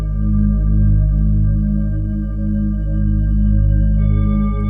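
A layered synth chord sub bass with an added perfect fifth gives a warm, spacey, sustained drone, deep and pulsing gently, loud and steady with no voices.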